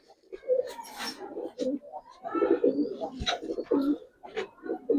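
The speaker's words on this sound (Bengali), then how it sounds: "এটা একটা অনেক দামি কবুতর, যে চিনবেন সে নিবেন।" Giribaz coloring pigeons coo at a seller's stall in Bangladesh, several close, throaty rolling coos overlapping in uneven bursts, with voices murmuring faintly underneath.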